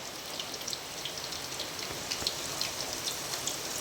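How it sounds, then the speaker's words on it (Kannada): Dense, constant hiss of heavy rain pattering on surfaces, with scattered louder drops, steady throughout and with no voices. "ನೋಡಿ ಎಷ್ಟು ಜೋರು ಮಳೆ ಬರ್ತುಂಟಂತ, ಅದರದ್ದೇ ಸೌಂಡ್ ಜಾಸ್ತಿಯಾಗಿ ಕೇಳ್ತುಂಟು"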